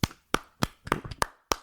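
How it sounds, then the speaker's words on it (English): A few slow, sparse hand claps, a mock golf clap, sharp and isolated with pauses between, about six hits in under two seconds, fairly quiet and close with no talking. "Golf clap."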